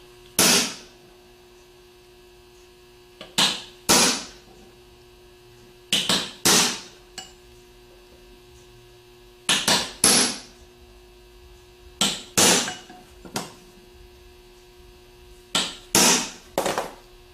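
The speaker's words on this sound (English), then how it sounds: "What I'm doing is I'm putting the corner of the chisel on the edge of the plate and hitting it at an angle." A hammer strikes a chisel set at an angle on the edge of an aluminum bearing retainer plate while rebuilding a GM AD series alternator: sharp metallic blows, mostly in pairs, repeated about seven times with quiet gaps.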